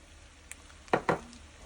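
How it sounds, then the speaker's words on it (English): Chopped onion dropped into a hot pot for green chile stew: two quick soft thuds and a brief sizzle over a quiet background hum, close up, no speech. "And now we are going to add our onion."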